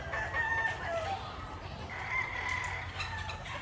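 Roundhead gamefowl pullets being fed keep up a continuous low flock murmur of clucks with a few faint, brief higher calls, under distant background noise, with no clear talking.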